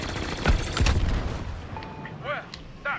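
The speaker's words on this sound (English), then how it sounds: "I'm being shot." Blaster fire striking the player's A-Wing starfighter in Star Wars Battlefront 2: a few sharp bursts early on, then warbling zaps and laser shots a little later, over a busy background of space-combat noise.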